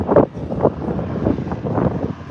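Gusty wind buffets a microphone outdoors at night beside the Atlantic Ocean at Maple Grove Raceway, a low rumbling, uneven whoosh swelling and fading in soft bursts.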